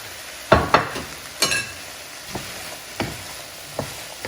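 Onions and asparagus sautéing in a hot sauteuse pan, a soft sizzle punctuated by several sharp clacks and scrapes as the vegetables are stirred and tossed, close up with no talk.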